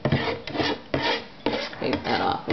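A spatula scrapes repeatedly across a hot pan coated in bacon grease while breakfast cooks, giving rough rasping strokes in a steady back-and-forth rhythm, close and fairly loud, with no talking.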